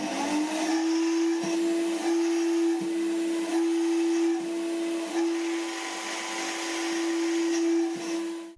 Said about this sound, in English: Reduced noise levels make for a much more comfortable blending experience, even at the highest power settings.